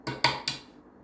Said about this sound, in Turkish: Şimdi içine bir tane yumurta kırıp çırpacağım